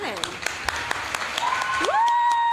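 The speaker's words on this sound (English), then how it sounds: "I want you guys to give a round of applause for Cheyenne Brown" Applause from the audience at a high school prize-giving ceremony for a student, with sharp individual claps spaced through the clip and a voice calling out over them.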